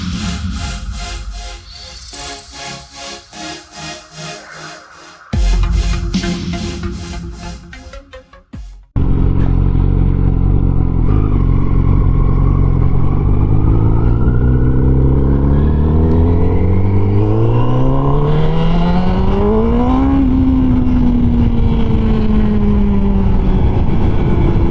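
A tuned 2019 Honda CBR1000RR SP1 sport bike revs hard, then accelerates loudly from about nine seconds with a rising engine note and one gear change near twenty seconds, close and continuous.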